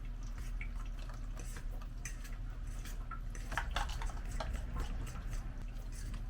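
Speculaas cookie ingredients being mixed in a bowl, a soft continuous stream of clinks and taps of utensil against bowl, close and fairly quiet over a low background hum.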